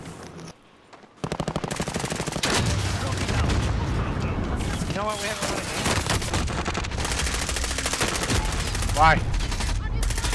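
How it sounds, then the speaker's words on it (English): Sustained automatic gunfire and explosions roar through a Call of Duty Warzone match, loud and continuous after a brief quiet start, while a player speaks briefly over the game sounds. "Under hostile fire."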